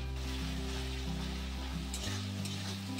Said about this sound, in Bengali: এখন দিয়ে দিলাম হলুদ, রেড চিলি পাউডার আর তারপর দিলাম স্বাদ মতো চিনি।